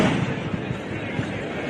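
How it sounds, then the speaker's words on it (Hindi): Fireworks at a cultural festival welcoming an arriving guest, a dense continuous rumble of bursts and crackles heard at a distance, with a crowd and voices mixed in. "ये आतिशबाजी"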